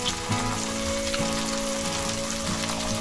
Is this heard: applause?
no